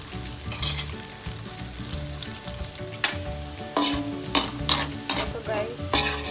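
Pork menudo sizzles loudly in a pan while a utensil stirs and scrapes through it, sharp scraping strokes cutting repeatedly through a continuous frying hiss, close and prominent.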